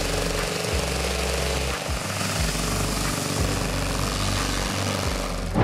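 A Colomban Cri-Cri, a tiny French-built single-seat aircraft with a pair of 15-horsepower engines, drones steadily and loudly throughout with a fast, buzzing propeller throb and no talking.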